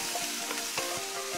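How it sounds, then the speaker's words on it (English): Carrots sizzle steadily in a stir-fry pan with soy sauce, a dense, crackling hiss with small pops. The sound is moderately quiet and continuous, and nobody talks. "You can hear it sizzling away."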